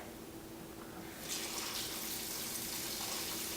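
A steady rush of water pours from a tap, growing a little louder and brighter partway through, with no voices.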